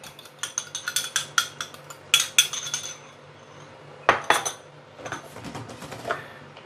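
Chicken pieces being mixed by hand with egg in a bowl, giving a run of irregular clinks, scrapes and wet slaps against the dish, close and clear with brief pauses and no talking.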